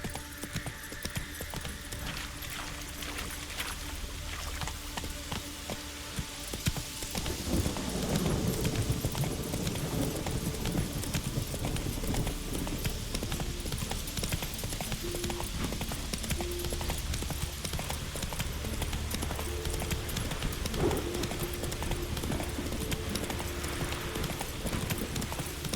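Horse hooves clip-clop steadily while riding in The Witcher 3, a continuous rhythmic trot that picks up after a few seconds and keeps a close, even beat over ambient game sound.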